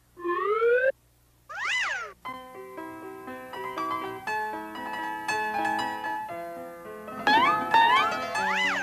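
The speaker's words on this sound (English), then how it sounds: "Riff Raff, did you hear a baby crying?" A cartoon kitten mews in short high cries, then fades under a bright, busy music score that swells and flourishes near the end.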